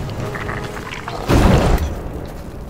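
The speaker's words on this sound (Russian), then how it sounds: "Взрывы." A heavy explosion booms in the dark fantasy video game Lords of the Fallen, a single deep blast rising suddenly over ambient game noise, then rumbling and fading away over about a second.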